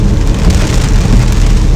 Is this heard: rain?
yes